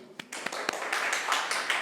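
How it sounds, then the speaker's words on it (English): Round of applause from a meeting audience, starting with a few separate claps that quickly swell into steady, dense clapping from a crowd. "Can we have a round of applause to both of them?"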